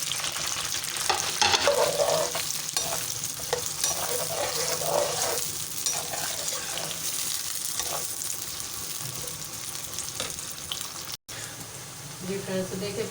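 Chopped onions and garlic fry in a pan for an aloo gosht, giving a steady sizzle broken by repeated scraping stirs, with a brief cut near the end and no talk.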